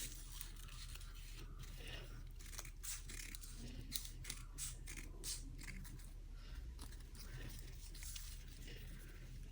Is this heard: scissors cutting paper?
yes